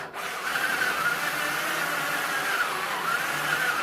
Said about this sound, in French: je vais juste venir percer des trous sur les côtés où on va se fixer la caisse